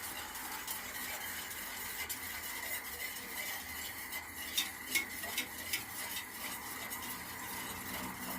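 A spoon stirs tiramisu mixture in a bowl, a soft steady scraping with a few light clinks of utensil against the dish near the middle, quiet and close.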